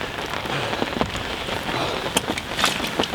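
Autumn rain falling at a fenland willow lake, a steady close patter of drops on surfaces with occasional sharper taps, continuous and fairly loud, without voices.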